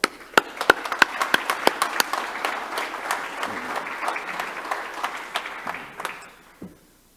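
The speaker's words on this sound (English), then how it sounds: "You all deserve a big round of applause." Audience at a retailer awards ceremony claps, sharp individual claps standing out over a softer spread of applause from a modest crowd, tapering off over about seven seconds.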